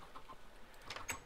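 Chickens on a Minecraft chicken farm give a few faint, quick clucks, with a brief burst near the end against a low background hiss.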